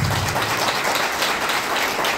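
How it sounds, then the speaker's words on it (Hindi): Audience clapping at a large motivational seminar in Ranchi, a steady dense wash of many hands applauding continuously and loudly throughout, with no voices over it. "तो एक बार अपने माता पिता के लिए और ईश्वर के लिए एक बार जोरदार ताली हो जाए दिल से।"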